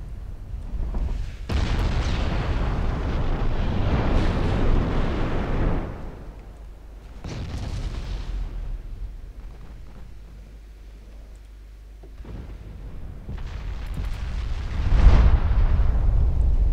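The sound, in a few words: warship casemate ammunition exploding in video game Ultimate Admiral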